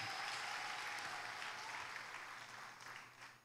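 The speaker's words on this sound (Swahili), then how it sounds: "Pigie tena Yesu makofi ya kutosha" A church congregation at a Sunday service applauds together, steady clapping that continues for a few seconds and slowly fades, with no talking.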